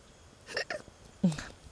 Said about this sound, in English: Sometimes I get like a burp hiccup.